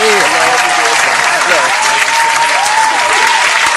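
A crowd of people applauds steadily and loudly, dense clapping filling the whole stretch with voices chattering and whooping faintly underneath.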